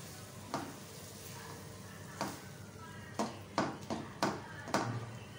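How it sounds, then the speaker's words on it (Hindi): Mutton keema with whole green chillies frying in a pan, a low steady sizzle punctuated by about six sharp spatula scrapes and knocks, the strokes bunching closer together toward the end, with no talk. "अच्छी तरह से भुनाई करें।"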